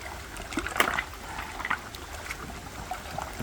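Water from a mine adit runs and trickles through a trench, a faint, close burble of small splashes and drips that rises and falls irregularly.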